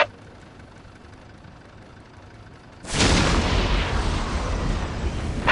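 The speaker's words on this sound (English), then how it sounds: "Preparing Whirlwind missile battery to fire." Whirlwind missile battery in Warhammer 40,000: Dawn of War fires after a quiet lull, bursting into a loud, sustained roaring rush of launching rockets that holds steady to the end.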